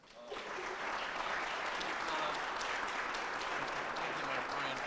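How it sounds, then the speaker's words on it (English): A crowd at a civic announcement event gives the mayor a round of applause, swelling quickly into dense, sustained clapping that holds steady, with voices faintly underneath. "if we could probably make a round of applause for our mayor, Hodgson."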